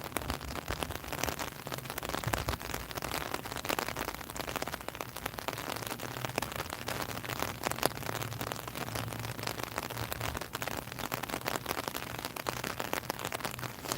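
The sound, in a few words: heavy rain falling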